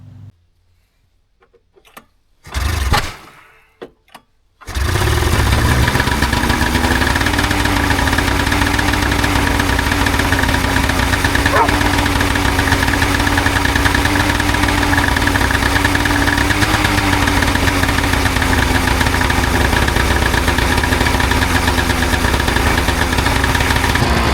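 A snowmobile engine, just unflooded after a hard start, catches with a loud burst, then settles into a steady, rough, droning idle that runs on close by without letup, with faint sounds before it starts.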